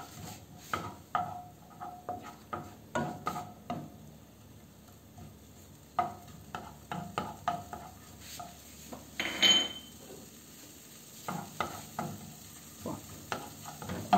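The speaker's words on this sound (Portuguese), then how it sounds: "Eu vou refogar o alho," Garlic sautéing in a pan while being stirred, with soft sizzling under frequent sharp scrapes and clinks of a utensil against the pan, close and moderately loud, with no talking.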